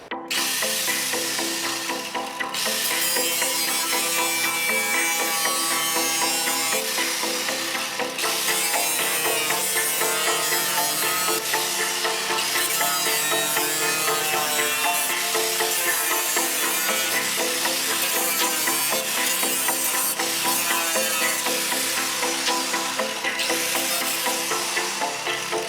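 Welding patch panels onto a rusty Honda CR-V body: a steady, harsh crackling sizzle runs nearly continuously with brief pauses, loud and close.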